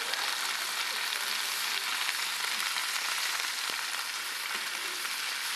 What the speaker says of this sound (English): put the seasoned side down into the hot cast iron skillet